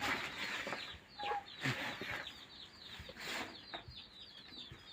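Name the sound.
chicken chicks clucking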